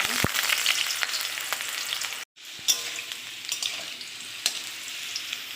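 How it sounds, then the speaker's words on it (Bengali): Potato pieces fry in mustard oil in a wok, a loud, dense, steady sizzle with occasional stirring clicks, briefly dropping out for a moment before the crackling frying resumes. "এবার টুকরো করা আলুগুলো আমি ভেজে নেব"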